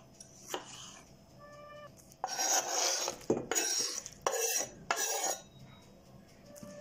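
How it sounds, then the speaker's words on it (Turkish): Knife chopping a tomato finely on a board: a few quick blade taps, then bursts of brisk, close cutting strokes with a wet, scraping edge, no voices. "Bir tane domates ince ince doğruyorum."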